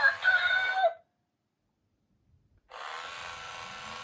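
A toy panda coin bank gives off a shrill electronic squawk that cuts to silence for over a second, then a quieter, steady mechanical whirring starts up, with no talking.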